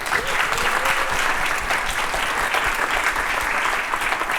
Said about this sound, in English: Their own CEO giving herself particularly generous applause there